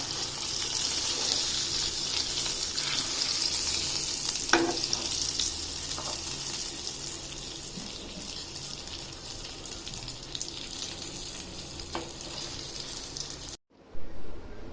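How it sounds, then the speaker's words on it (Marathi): Pomfret fish sizzling steadily in a pan while being flipped, a continuous close hiss of frying oil with a few soft scraping clicks, ending with a brief silence and a clatter. "थोडी फ्राय झाली की आता ही अशी पलटून घ्या।"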